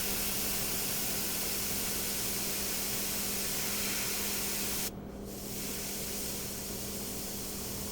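A micro airbrush sprays paint details with a continuous, even hiss that briefly dips for a moment partway through before resuming steadily.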